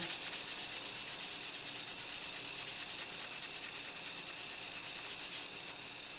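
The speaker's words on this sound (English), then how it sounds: "we'll just continue sanding the, the rest of the seam here" Quick back-and-forth sanding strokes along a seam of a King Ghidorah model kit rasp in a steady rhythm, close up, before stopping near the end.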